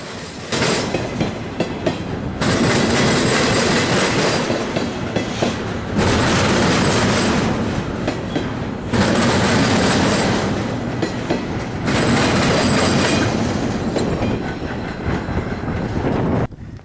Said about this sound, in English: After the intermodal train came on by